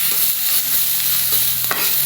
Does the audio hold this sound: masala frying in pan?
yes